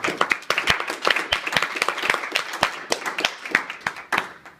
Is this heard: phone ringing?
no